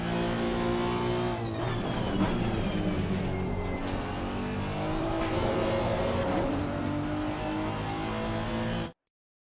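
Race car engine in a racing video game, revving loud and continuous with shifting pitch as it accelerates and downshifts, holding for about nine seconds before cutting off abruptly.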